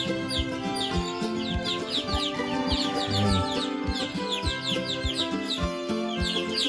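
Chickens clucking and cheeping in a coop on a poultry farm, busy overlapping clucks and chirps with occasional thumps nearby, loud and continuous.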